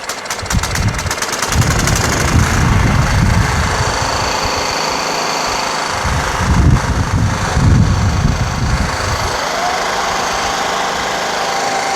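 A Kohler Command 15 engine on a Scotts Murray 1542 riding mower runs steadily at close range with a rough mechanical idle, its throbbing growing louder in two bursts before easing back down.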